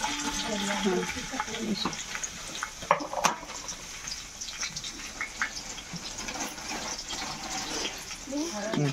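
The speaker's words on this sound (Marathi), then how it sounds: "आपले आपण ह्याच्यात तेल ओततो, हे परतून आपलं पहिले घ्यायचं ना।" Mutton sautés in hot oil in a pot for a mutton biryani, with a steady close sizzle throughout and occasional stirring scrapes and clinks.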